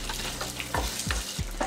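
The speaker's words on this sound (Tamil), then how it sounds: "இது எல்லாத்தையும் நம்ம நெய்யில் வறுத்துக்கலாம்." Cumin, fennel, black pepper, coriander and dry ginger roasting in ghee in a pan, with a soft continuous sizzle and a few distinct scraping stirs of a spoon, close and steady with no talking.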